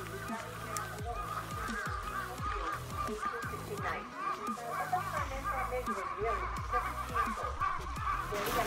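Loud, dense squawking and honking from a flock of birds, likely geese, at the Kyoto Imperial Palace grounds, continuous and close, with voices mixed in underneath.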